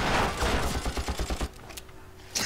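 A rapid burst of gunfire in the video game Far Cry co-op, about a dozen quick shots in a rattling string, followed by a few scattered sharp pops.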